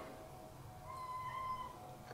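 A single short, faint meow from a pet cat, either the tomcat Archie or his sister Luna, rising out of a quiet room with a low background hum.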